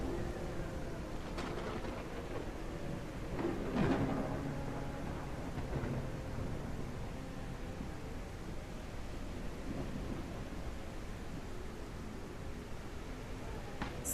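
A thunderstorm: steady rain pours down with a constant wash of wind, and low rumbles of thunder swell and fade, loudest near the middle, with no talking.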